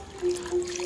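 Tap water runs and trickles in a garden setting, a short steady liquid flow with a faint low hum beneath it.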